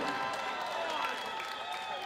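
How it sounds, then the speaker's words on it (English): Crowd applause at a boxing event for fighter TJ Chang, a steady wash of clapping with light cheering lasting the whole moment, fairly close and dense, with a voice partly mixed in. "can we once again give a big round of applause for TJ Chang?"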